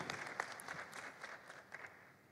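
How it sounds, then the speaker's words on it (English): A conference audience in Kigali, Rwanda applauds after a speech, a short burst of scattered hand clapping at moderate distance that stays fairly quiet and thin throughout. "Round of applause."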